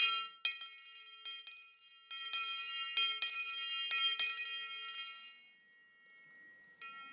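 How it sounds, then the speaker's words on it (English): An old bell rings out at a university commencement ceremony, a series of bright clanging strikes with ringing overtones that decay into silence before one last soft strike. "It's an old bell."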